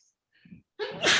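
A single sharp sneeze comes close up after a short quick intake of breath.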